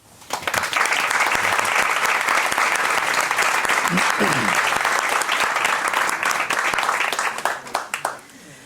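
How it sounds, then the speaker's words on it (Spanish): A live audience breaks into loud, dense applause at a talk on near-death experiences. It holds steady for several seconds, then tapers off as a voice begins speaking. "Y yo creo que eso merece un aplauso."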